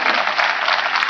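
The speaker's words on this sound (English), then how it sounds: "Mr. Bachchan deserves a round of applause for that." A brief burst of audience applause at a public event with Amitabh Bachchan, dense and loud clapping that fills the short moment without any voices.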